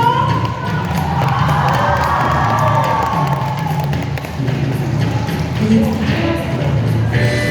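A crowd of children and parents at a school New Year party cheers and shouts to welcome someone, a loud, steady din with voices calling out over it throughout.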